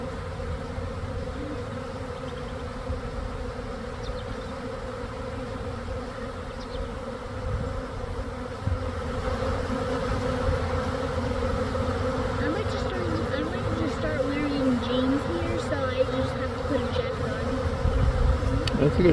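A dense swarm of honey bees buzzing around hives, a steady loud drone that swells slightly louder partway through, with faint background noise and no clear talk.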